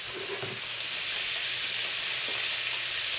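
Seafood soup ingredients in a cooking pot, with a steady loud sizzling hiss throughout and a few faint scraping stirs near the start.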